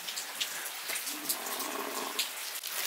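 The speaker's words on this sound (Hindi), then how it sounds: "स्टिल बारिश हो ही रही है" Heavy rain in a village pours down steadily, a dense, even hiss of water with occasional sharper drips and splashes and no talking.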